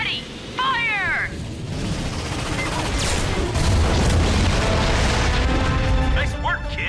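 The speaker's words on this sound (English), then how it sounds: "We're gonna take down those warships, one by one. When the cannon charges," Warship cannons firing in a space battle from the Ratchet and Clank video game, with heavy booms and explosions rumbling continuously under dramatic voices and score.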